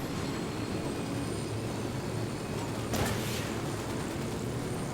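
A helicopter in the video game Ghost Recon Wildlands keeps up a continuous rushing rotor and engine roar, steady and fairly loud, with one brief swell partway through.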